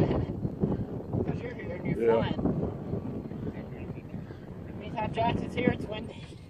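Wind buffeting the microphone out on the water, a continuous rumbling gust that sits under close, lively voices talking throughout.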